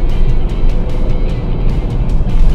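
Inside a 2017 Volvo V90 T5 on a highway, the engine and road noise build as it accelerates past another car, a loud, steady rumble heard from the cabin.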